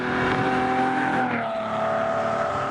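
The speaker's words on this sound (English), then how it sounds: "The sound of that V12 engine and 300 horses under the hood" A rare Ferrari's 300-horsepower V12 drones with a smooth, sustained engine tone whose pitch slides downward as it runs, loud and close, with no talk over it.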